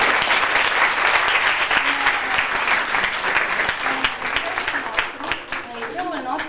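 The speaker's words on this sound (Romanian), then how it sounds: "trebuie să-i aplaudăm pe toți" Sustained applause from a large audience fills a school hall, dense and steady clapping that stays loud throughout and tapers slightly toward the end.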